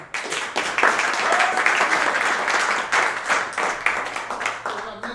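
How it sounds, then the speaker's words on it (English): Applause at a live business and finance talk event in St. Louis, a sustained wash of clapping from an audience lasting several seconds before tapering off. "Let's give a round of applause."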